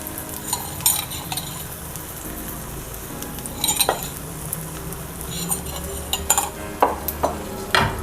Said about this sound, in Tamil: இப்போ நம்ம இந்த ஆம்லேட் இதில் ஆட் பண்ணிடலாம்.